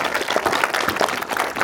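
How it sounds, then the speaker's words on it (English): Audience clapping at a fundraising gathering in a private home, a sustained burst of dense, even applause from a room of people, close and lively without speech over it. "Everyone have a round of applause."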